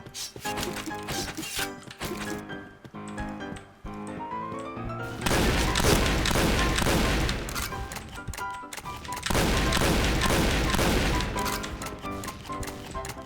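Bursts of gunfire from a zombie shooter video game, dense and loud, come in two long stretches of rapid shots layered over steady game music and effects.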